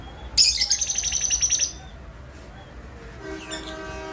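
Cockatiels and lovebirds in a home aviary give a loud burst of rapid, bright chirps, then quieter scattered tweets and calls follow against a low rumbling background.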